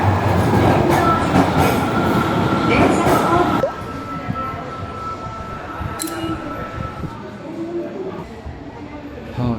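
An Osaka subway train rumbles loudly along the track, wheels clattering with a steady hum, then the roar drops as the car slows; a voice talks over the ride.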